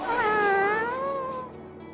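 A cat hiding among the house plants gives one drawn-out, wavering meow that rises and then falls away, close and clear with no talking over it.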